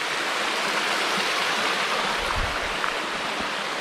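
Tufa waterfall on the Wedenbach in the Schauertal near Streitberg, a steady close rush of falling water with a broad, even hiss and a few brief low thumps, no voices.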